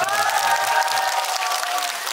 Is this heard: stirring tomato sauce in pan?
no